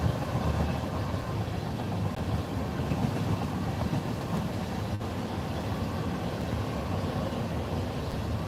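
A Norfolk Southern freight train rolls past on the tracks, a loud continuous rumble of wheels and wagons with steady clatter and no talk.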